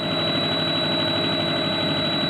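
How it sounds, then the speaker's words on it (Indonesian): DC motor driven by a two-quadrant DC chopper speeding up toward 800 rpm, a loud steady hum with a constant high whine, close and continuous with no talk. "motor mengalami peningkatan kenaikan"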